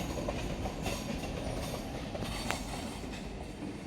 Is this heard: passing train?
yes